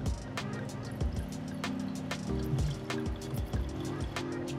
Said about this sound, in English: Pour myself a glass and that's how I look.